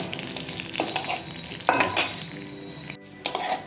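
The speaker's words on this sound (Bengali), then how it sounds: "মশলাটা ফুটে গেছে, লঙ্কাগুলো চেটকাচ্ছে" Dried red chillies with black and white cumin crackling in very hot oil, a steady sizzle with scattered pops and a few louder bursts of spatter, close up, with no voices.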